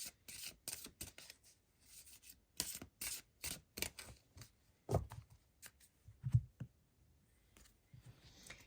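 Wicca Oracle cards shuffled close up, producing a series of sharp papery rustles and snaps in irregular bursts with short pauses between them. No voices are heard.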